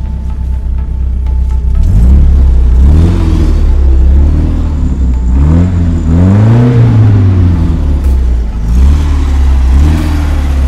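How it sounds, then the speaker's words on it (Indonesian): A 1976 Toyota Corona Deluxe engine idles loudly and is revved up several times, each rise in pitch swelling and then falling back to a steady idle, heard up close with no talk. "Kita coba injak gas ya, sebentar."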